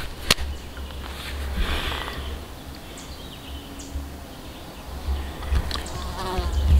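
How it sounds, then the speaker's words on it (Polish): Mosquitoes flying around a quiet lakeside spot at Anvil Lake, Wisconsin, giving a thin, steady buzzing whine that wavers near and far over a low background rumble. "komary latają"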